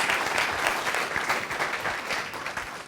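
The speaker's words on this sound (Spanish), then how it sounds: "Can aplauso we al give Rey a de strong Reyes." A church congregation gives sustained, dense applause at a worship service. The many hands clap as one even, close wash that holds steady for the whole stretch.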